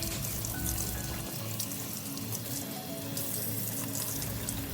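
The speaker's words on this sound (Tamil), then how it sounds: "இப்போ இந்த இலையை 2 இலையுமே நல்லா கழுவி எடுத்துக்கலாம்." Running water splashes steadily from a tap as banana leaves are washed for a halwa recipe, a close, continuous hiss and patter with no talking.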